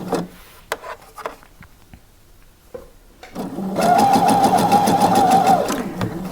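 A sewing machine stitches a blouse sleeve seam, starting after a few quiet handling taps and then running in a steady, fast, close whir for a few seconds before easing off.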